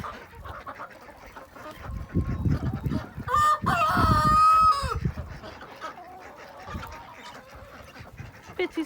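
Rooster crowing once, a long loud call calling a backyard flock of chickens and ducks out, with scattered clucks and fowl calls nearby before and after.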